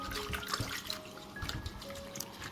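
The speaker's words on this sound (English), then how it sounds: "So I rinse it well and bring it out of the water" Scent leaves being rinsed in bottled water, with soft splashing and trickling close by, steady and low-level, without talk.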